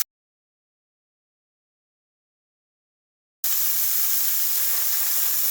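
Onions sizzling in a hot frying pan for a southern low-carb breakfast, a steady loud hiss and crackle that starts abruptly after a stretch of silence.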